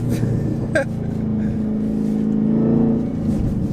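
A Dodge Challenger does a rolling burnout with traction control on, its engine holding a loud, steady drone that swells toward the end, heard close from the car.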